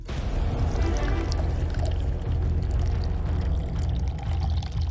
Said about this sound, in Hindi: ये आप आपके घर में जो 500 ml की बोतल जिसमें फ्लोर क्लीनर आता है, उसी बोतल के अंदर ये शैशे पोर कीजिए।